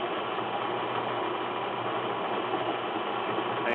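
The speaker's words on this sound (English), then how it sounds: "So it's going to take me a while to cut this keyway" A small lathe fitted with a milling attachment cuts a keyway, making a steady, dense mechanical whir with a faint rhythmic gear rattle that runs unbroken throughout.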